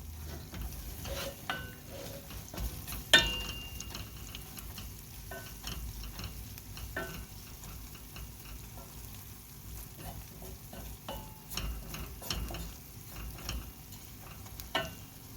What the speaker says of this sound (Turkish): Şimdi şehriyemi güzelce kavurayım